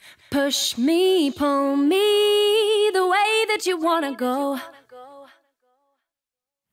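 A sung vocal line runs through delay echoes under sidechain compression with a long release in Logic Pro. The voice is loud and continuous, then tails off into fading echoes and near silence.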